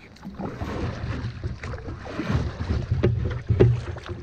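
Canoe paddle strokes through water near rocks before a portage on a small river, with soft splashes and drips under light wind noise and no talk.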